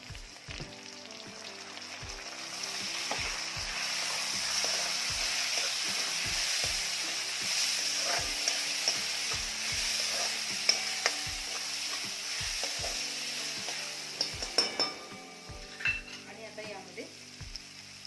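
Onion and lentils frying in a pan for a dill and bell pepper vegetable dish, soft steady sizzle under repeated scraping strokes of a stirring spoon, with a cluster of clinks near the end, no talk.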